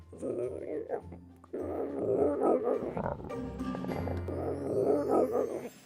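A voice makes strange guttural growls and rasping throat noises for a Minecraft vault ambient sound, rising and falling in loud bursts like an eerie ambient drone.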